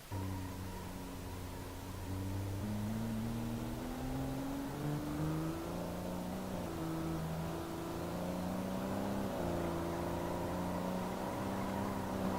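A small truck in BeamNG accelerates during a speed test, its engine note climbing steadily as it pulls through rising revs, with a gear change partway through, sustained and clearly audible without any speech.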